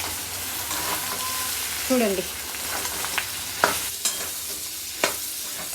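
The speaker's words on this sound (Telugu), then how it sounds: "ఇప్పుడు వచ్చేసి మనం ఆలుగడ్డ వేసేద్దాం" Potato pieces frying in a pan, a steady close sizzle broken by several sharp scrapes and knocks of a spoon stirring against the metal, with someone speaking briefly partway through.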